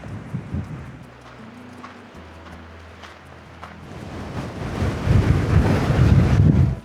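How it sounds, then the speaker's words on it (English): Strong wind on Tenerife's volcanic landscape buffets the microphone in rumbling gusts, growing louder and rougher toward the end, with no voices. "It's so windy today"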